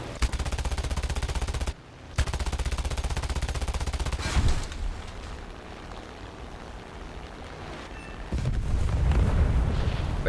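Rapid, loud bursts of 7.7 mm aircraft machine gun fire in War Thunder during an air battle, a dense rattling stream broken by a short pause, then quieter engine drone before another heavy burst.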